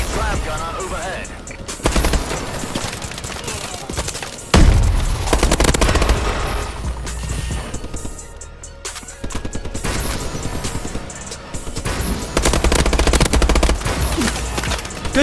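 Automatic gunfire in Call of Duty: Advanced Warfare multiplayer, loud bursts of shots repeating throughout amid game sound effects, with players talking over it.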